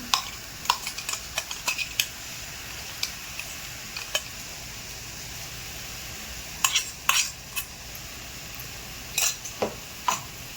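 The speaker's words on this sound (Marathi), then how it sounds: "आता हिरवी मिरची टाकून घेऊया." Green chillies fry in a pan at home, with a steady low sizzle under sharp, scattered clinks and scrapes of a spoon stirring against the metal, in irregular clusters and no voices.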